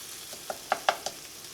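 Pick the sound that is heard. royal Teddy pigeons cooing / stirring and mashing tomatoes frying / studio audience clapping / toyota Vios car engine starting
stirring and mashing tomatoes frying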